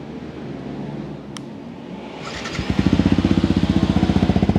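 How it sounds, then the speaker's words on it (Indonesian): A Yamaha WR 155R supermoto-style motorcycle with a custom full-system exhaust, idling quietly before being blipped into a loud, rapid, deep throbbing rev that pulses evenly and stays close. "Nah, pasti penasaran kan dengan suara knalpot custom ini?"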